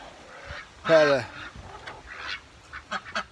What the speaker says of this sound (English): my ducks are being noisy